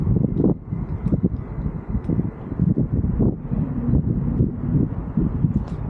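Steady gusty wind buffeting the microphone at London Heathrow airport, a continuous low rumbling roar with uneven surges throughout, no voices.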